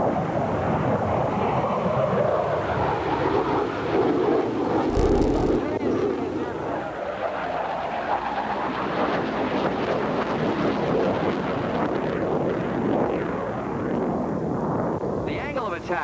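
GE turbofan jet engines spool up to maximum thrust on an airplane, a loud, continuous broadband roar with rising and shifting tones throughout, heard with a narrator speaking over it.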